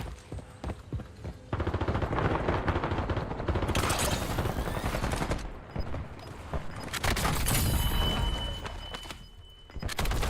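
Sustained light machine gun fire in the battle royale game Warzone, long loud bursts of rapid automatic shots with brief pauses between strings, close and dominant.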